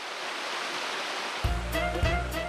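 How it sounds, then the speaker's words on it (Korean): A clear mountain valley stream rushes in a steady, full wash of water; partway through, a low rumbling hum joins the flow. "이 여름 더없이 반가운 물 맑은 계곡."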